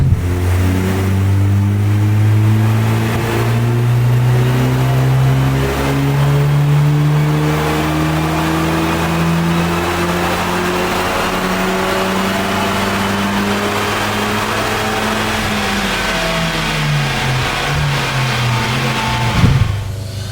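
A tuned VW Golf Mk8 GTI turbocharged engine revs loudly and close up during a boost test, its pitch climbing steadily then dropping away near the end, with no talk over it.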